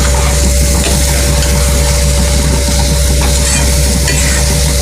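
Capsicum sautés in a hot pan for Tamil capsicum-tomato dal rice, a steady, loud sizzle with continuous stirring scrapes throughout and no voices.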